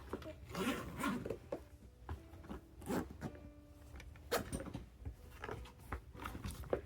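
Zippers on the side pockets of a range bag are pulled open and shut in several short rasping bursts, close and moderately quiet, with soft handling rustles and clicks between them.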